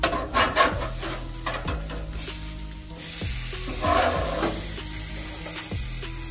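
Ground beef burgers sizzle on a Monument MESA-400 gas grill after being flipped, a steady close frying crackle with scraping and stirring sounds at intervals, and no talking.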